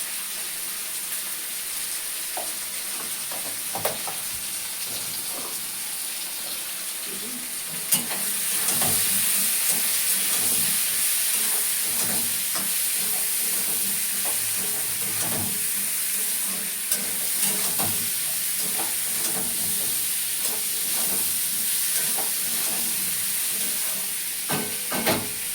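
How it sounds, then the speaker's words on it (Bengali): Potatoes with turmeric fry in hot oil and get stirred, a continuous close sizzle with scraping stirs; the frying grows louder partway through and stays steady. "তো আলুটা একটু ভাজা ভাজা হোক,"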